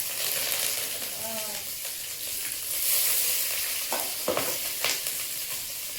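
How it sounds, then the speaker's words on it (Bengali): Oil sizzles steadily as cumin and green chili fry in a pan, with a few scraping stirs and clinks of a utensil toward the end. "কড়াইতে তেল দিয়ে দিচ্ছি, জিরে, তেরা কাঁচা লঙ্কা"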